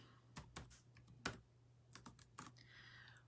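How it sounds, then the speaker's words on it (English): Keys tapped on a computer keyboard while names are typed in, heard as irregular clusters of close, crisp clicks and clacks over a quiet room with a faint steady hum. "And let me start typing your names in."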